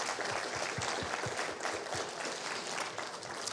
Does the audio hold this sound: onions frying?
no